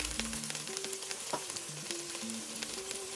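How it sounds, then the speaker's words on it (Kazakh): Onions fry in hot rendered tail fat in a cast-iron cauldron, giving a dense, crackling sizzle with small pops and a steady hiss throughout, close and alone without voices. "пиязымызды салып, сарғайғанша қуырамыз"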